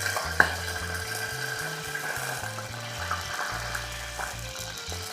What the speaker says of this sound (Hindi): ये गोल मिर्च है इसको बहुत ज़्यादा किरकिराना नहीं है, जलाना नहीं है, हल्का सा हम इसको एक दे रहे हैं ताकि ऑयल के अंदर इसका एक फ्लेवर क्रिएट हो जाए